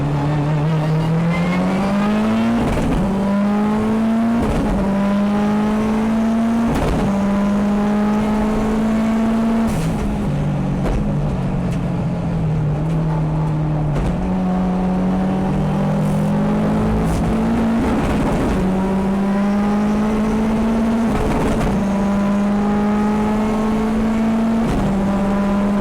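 Mitsubishi Evo and Subaru WRX race cars circuit racing at Hampton Downs, a loud onboard engine howl climbing through the revs and dropping at each gearshift in repeated cycles, with occasional tire noise.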